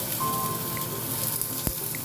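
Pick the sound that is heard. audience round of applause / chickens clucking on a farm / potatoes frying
potatoes frying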